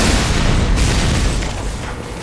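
Loud, close grenade explosions in Team Fortress 2, a heavy booming blast that fills the space and decays slowly over two seconds.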